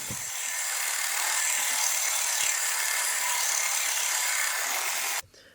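A parang blade made from a sawblade is hand sanded, producing a steady, close, high scratching rasp that runs evenly for about five seconds and then stops abruptly.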